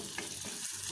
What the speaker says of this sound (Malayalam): കടുക് പൊട്ടിത്തുടങ്ങി